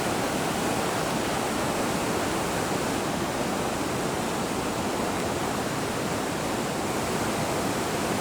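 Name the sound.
high creek water rushing after hurricane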